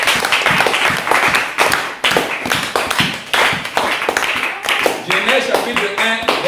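A church congregation claps together in a lively, rhythmic beat, with voices mixed in under the loud, close, steady clapping.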